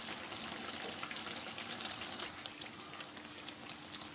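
Eggplant pakora frying in a pan of oil as the second side cooks, a steady soft crackle and sizzle with scattered small pops, no voices.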